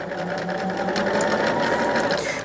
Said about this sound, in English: I'm just putting them together there so I can go on and get those 2 sewed together.